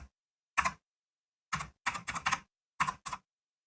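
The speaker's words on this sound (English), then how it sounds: "Let's just see if I can enjoy the sounds of my mechanical keyboard." Typing on a mechanical computer keyboard, with crisp clacky keystrokes coming in short separated bursts, alone and close.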